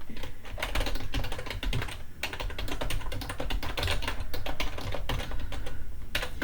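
Steady, rapid typing on a computer keyboard, a continuous run of close, crisp key clicks with brief pauses, heard alone without any talk.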